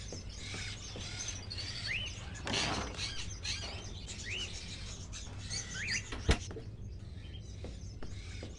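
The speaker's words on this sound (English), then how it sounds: "Are those crows in the cages?" Crows kept in cages inside an old house in the game Fahrenheit give short, rising caw-like calls, scattered and fairly faint over a low ambient hum, with a sharp clatter partway through.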